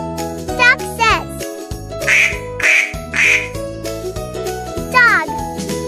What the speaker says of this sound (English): Duck says.